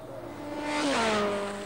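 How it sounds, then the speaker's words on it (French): A motorcycle speeds past at high speed on a road, its engine whine rising then dropping in pitch as it swells close and fades away, alone with no talk. "c'est une moto qui vient de passer à grande vitesse."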